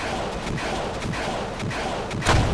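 Toy army men's artillery fires in the game Home Wars during a battle against giant insects, a dense patter of gunfire-like thuds under low rumble, ending in a louder blast.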